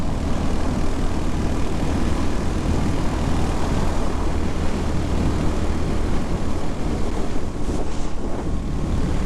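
Royal Enfield Hunter 350 motorcycle cruising in fifth gear, a steady loud engine drone buried in heavy wind rush across the microphone, continuous throughout with no talking.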